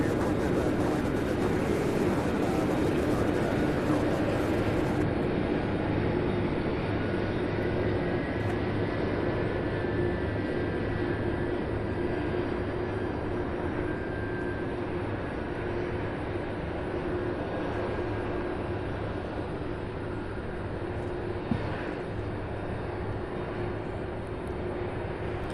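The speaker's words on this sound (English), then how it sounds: "Looks like American Airlines Flight 2356. It's a 737-800, a daily flight from Dallas Fort Worth." An American Airlines Boeing 737-800 coming in to land at Louisville International Airport, a continuous broad engine roar and rumble that holds steady and fills the whole stretch, with no voices.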